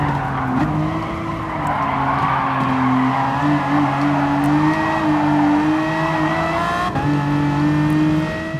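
Premium sports car racing in Gran Turismo Sport: a loud, near engine holds a steady high whine with rising and falling revs and tire squeal, briefly dipping near the end as gears shift, with no talk over it.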